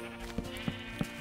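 Minecraft sheep bleating three times in short, evenly spaced calls over quiet game background, fairly faint.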